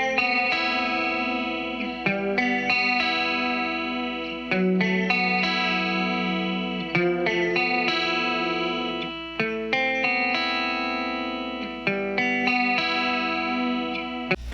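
An electric guitar runs through a Hughes & Kettner amp into a Behringer Shiva with a UC200 Ultra Chorus, playing shimmering, chorused chords in a steady rhythm with slight grit, close and full throughout.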